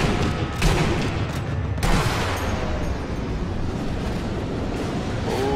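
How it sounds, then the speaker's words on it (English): Explosions and gunfire in the Sniper Elite V2 video game, with two sharp broadband blasts early, including a grenade hit, followed by a dense rumbling roar of combat that carries on steadily. "Grenade hit,"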